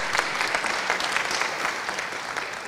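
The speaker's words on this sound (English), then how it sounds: "Let's give the panel a round of applause again." A conference audience applauds a panel steadily, a dense patter of many hands clapping throughout without any break.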